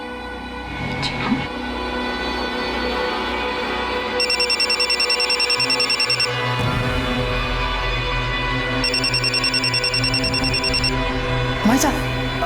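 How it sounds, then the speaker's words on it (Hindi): A mobile phone rings in a home during a family puma gathering, repeating bursts of an electronic ringtone under ongoing conversation and room noise, with people talking over it. "भाभी सा का फोन बज रहा है"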